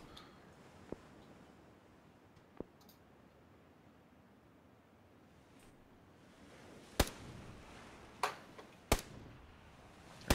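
Distant gunshots in a battle royale video game crack out sporadically, a few isolated pops early and then a tighter cluster of sharp shots near the end, faint over a quiet hissing background.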